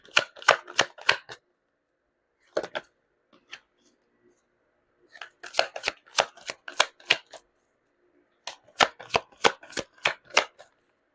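Tarot cards being shuffled up close in three separate bursts of quick, crisp riffling snaps, with short quiet gaps and one brief flick between them. No one speaks.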